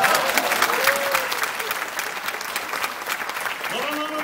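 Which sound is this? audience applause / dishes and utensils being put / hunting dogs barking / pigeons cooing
audience applause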